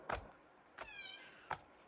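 A baby kitten close by gives three short, thin meows spaced evenly apart in a quiet room, with the middle one slightly drawn out.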